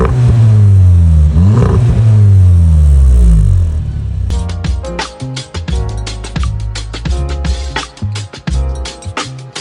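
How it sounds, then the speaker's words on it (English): A VW Golf GTI Mk7 Performance with an exhaust leak around its clamps revs hard nearby, its engine note rising and falling loudly before settling into a rough, chuffing idle with a rapid, clattering puff. "in today's video we're going to be fixing this exhaust blow"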